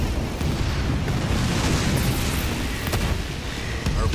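Artillery shells and explosions pound a base in the strategy video game Halo Wars, a continuous loud rumbling barrage of booms with sharp bursts layered over it.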